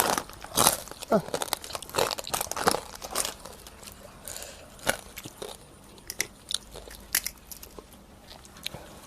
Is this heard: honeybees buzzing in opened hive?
no